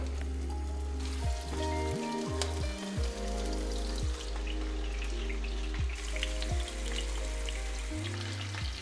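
Lulya kebab frying in a pan over a strong gas flame, a steady dense sizzle with scattered crackles and pops running throughout, close and fairly loud, with a low hum underneath and no talking.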